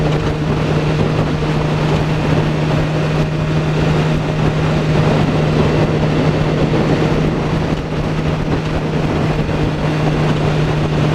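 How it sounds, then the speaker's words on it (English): A motor runs steadily at high revs to warm up, a loud continuous drone with a strong, even hum and no pauses, heard alone from start to finish. "I'm just giving this a sort of a high rev run, just to sort of let it"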